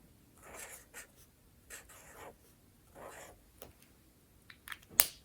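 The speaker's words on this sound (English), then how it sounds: "take a lighter marker color, just write your letters as you would normally" A marker writes letters on paper, with several short scratchy strokes separated by brief pauses, quiet and close, ending in a sharper tap.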